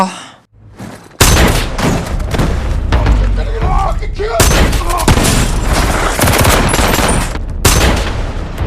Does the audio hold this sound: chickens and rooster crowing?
no